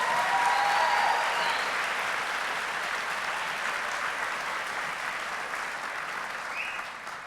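A crowd at the Scavo High School Class of 2014 commencement applauds, dense sustained clapping that fades slowly, with a few faint whoops.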